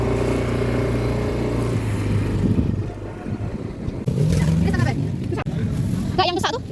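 A motorcycle engine hums steadily with a low drone on the ride to a morning market, fading and shifting as the bike moves. Voices talk over it at close range.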